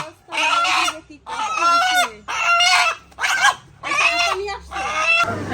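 Chickens cluck and a rooster crows in loud, close bursts, five or six calls separated by short pauses, with a dog-like or goose-like squawk mixed in and no clear talk.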